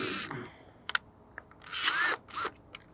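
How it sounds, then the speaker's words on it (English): Short bursts of a power drill whirring, a few quick clicks between them, then two longer high-pitched spins close by. "I just happen to have the drill out today."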